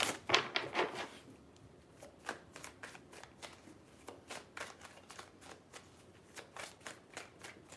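Close, steady shuffling of a tarot deck, a run of crisp riffles and soft card taps repeating in an uneven rhythm at a quiet level, with no talking.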